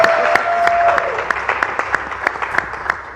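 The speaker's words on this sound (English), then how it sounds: "That's another applause for me." Applause at a large church youth convention, with rhythmic clapping and sharp individual claps standing out over a sustained crowd wash, moderately loud and continuous.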